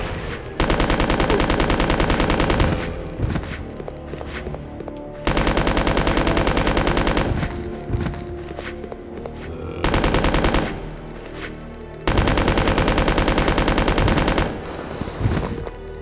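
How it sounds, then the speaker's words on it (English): Uzi submachine guns fire in long rapid bursts in the video game Resident Evil Code: Veronica, four loud sustained volleys separated by brief pauses, with no talking. "but we can use these Uzis"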